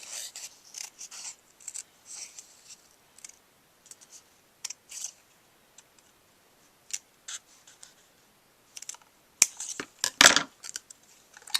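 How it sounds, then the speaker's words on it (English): Scissors snip freehand through a fringe of hair in a Halloween craft, with quick, irregular close-up cuts in short clusters and brief pauses between them. "I'm going to just do a little bit of a fringe cut on his hair, just freehanding with my scissors."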